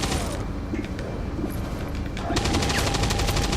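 Sustained suppressing gunfire in the video game XCOM 2, loud and continuous, with mechanical clanks and a heavier burst of rapid shots in the final second.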